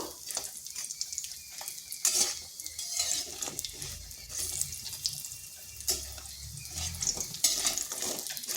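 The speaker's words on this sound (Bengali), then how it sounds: "বড়িগুলো একটু লাল লাল করে ভেজে নেব।" Bengali lentil dumplings (bori) fry gently in a pan, a faint, soft sizzle with intermittent stirring and scraping of a spatula, close and quiet, with no voices.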